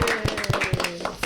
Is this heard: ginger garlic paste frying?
no